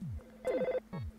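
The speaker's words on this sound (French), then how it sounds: "Il y a le téléphone qui sonne." Telephone ringing in the video game EarthBound: two bursts of a chirpy electronic ring tone with descending tonal sweeps, loud and close with no talk over it.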